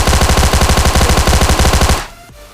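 Rapid automatic gunfire from a battle royale video game as a player shoots a bot, a steady loud burst of evenly spaced shots lasting about two seconds before stopping abruptly.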